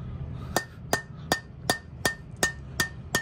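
A golf driver head treated with Head Tac adhesive is tapped eight times at a steady, even pace, each strike a short, close, dull thud with a little ringing left in it.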